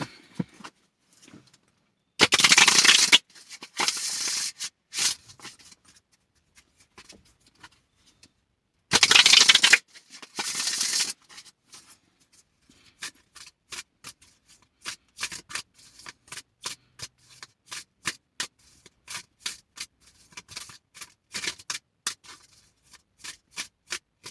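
A Witch's Oracle card deck being shuffled: two loud riffle bursts, then a long stretch of quick, crisp card taps and flicks, all close and with no voices.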